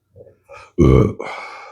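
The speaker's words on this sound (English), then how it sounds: "Pepper burp." A single loud, close burp after eating hot pepper mustard, a rough voiced belch of about half a second preceded by small throat noises and trailing into a breathy exhale.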